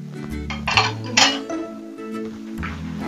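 A utensil clanks and scrapes against a pan while snails, green mussels and corn are stirred together, with a few sharp metallic clinks over a steady low sizzle and no talking.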